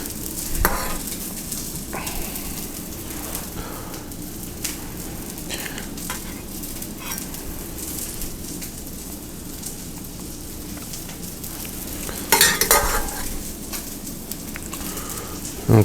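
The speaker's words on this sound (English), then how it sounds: "So now I have our salmon back here, and it has gone ahead and seared on the other side." Salmon sears in a pan with butter, giving a steady, close crackling sizzle throughout with occasional scrapes and clatter, and a sharper spitting burst near the end.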